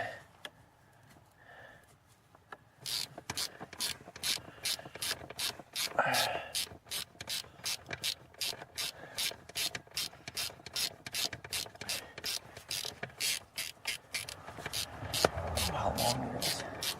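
A ratchet clicks rapidly and steadily while undoing the screw that holds the ECM plug on a 2002 Chevy Malibu, a close, even stream of metallic ticks after a quiet start, with faint talk underneath.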